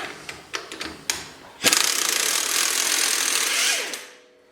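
Brake drum puller working a loose brake drum: several sharp ratcheting clicks, then a loud sustained mechanical whirring grind for about two seconds that trails off, close and alone.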